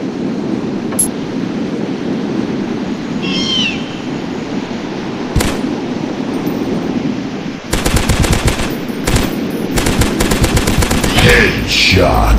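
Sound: gunfire in video game Dinosaurs Hunter, headshot

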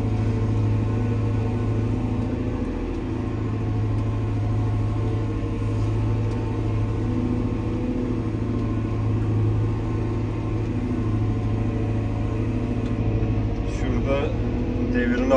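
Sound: Fendt 313 tractor engine running while ploughing

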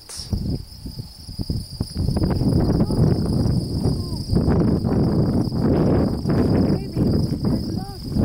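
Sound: crickets chirping

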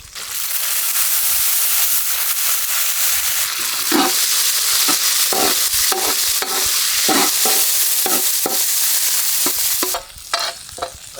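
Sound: frying onions and pirandai in a pan

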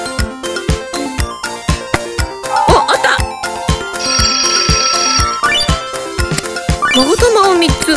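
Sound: telephone ringing in a video game

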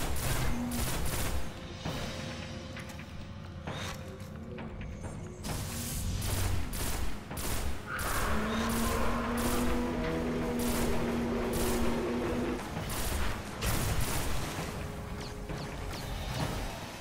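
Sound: gunfire in the video game Destiny (King's Fall)

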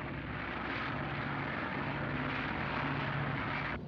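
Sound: airplane flying overhead

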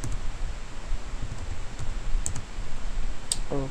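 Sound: typing a password on a computer keyboard

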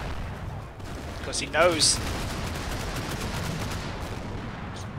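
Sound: mortar fire in a video game

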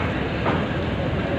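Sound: New Holland 3630 Super tractor engine arriving

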